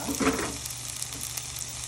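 Bamboo shoots sautéing in a pan give a short burst of sizzling with a louder crackle at the start, then settle into a steady hiss.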